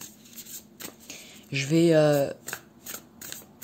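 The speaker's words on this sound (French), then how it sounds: "je vais les étaler et je vais tirer 3 cartes" Oracle wisdom cards are shuffled and spread out in a short, dense riffling burst of about a second, framed by French speech before and after.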